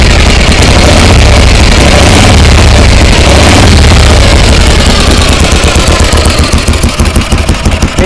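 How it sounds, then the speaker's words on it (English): A 1956 Harley-Davidson Panhead motorcycle engine runs loud and close as the throttle is worked, a dense roaring rumble that swells and then settles into a rapid, pulsing lope. "I just want you to hear the engine and everything."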